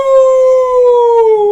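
A voice imitates a wolf howl: a single long, loud, steady wail that slowly falls in pitch, heard alone and close.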